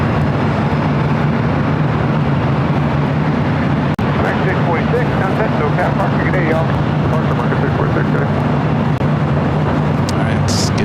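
An Iberia airliner taxiing at LAX produces a continuous low engine drone and rumble that stays steady and loud throughout, with faint voices mixed into the noise.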